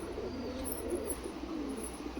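Soft, steady cooing from a blue Kamagar pigeon of Pakistani bloodline, low murmuring calls heard up close among other pigeons at a sale, without any talk.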